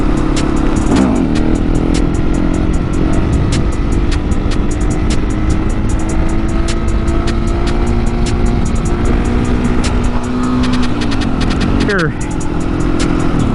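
Motorcycle ridden along an older asphalt road while wheelies are attempted, a loud continuous engine drone with heavy wind roar and brief rising revs near the end.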